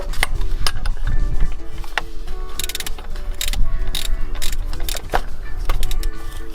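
A wrench ratchets in a run of clicks as it snugs the oil filter on a Volkswagen Polo 6N2 during an oil change, close and fairly loud, with metallic ticks and clunks throughout and no talking.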